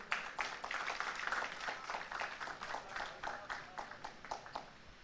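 Audience applause at the India News Manch event, a dense wash of clapping from a seated crowd that thins into sparser, more distinct claps toward the end, with no talking over it.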